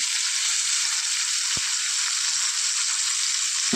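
Green chillies and tomato sauté in a pan for a spicy jackfruit seed curry, giving a steady close sizzle throughout with a single faint clink partway through.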